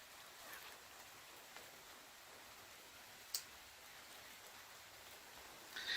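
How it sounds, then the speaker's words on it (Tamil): Rain falls at a check dam in the foothills near Coimbatore, a soft, steady patter with scattered faint ticks of drops and one sharper knock near the end, quiet and distant, with no voices. "அதுக்கு தகுந்த மாதிரியே கரெக்டா மழை பெய்ய ஆரம்பிச்சிருச்சு"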